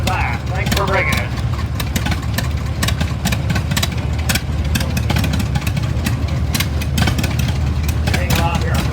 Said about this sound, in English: Next we have an International 300 utility. Built in 1955